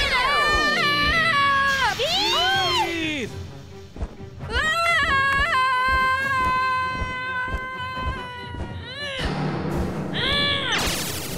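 Shrill, warbling cartoon screeches from a flamingo-like robot creature, several swooping pitch-bending cries in a row, loud and close, over a busy animated soundtrack.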